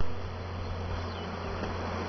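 Honeybees from a newly installed package buzz close by as they are brushed off a hive frame, a steady, continuous droning hum with no voices.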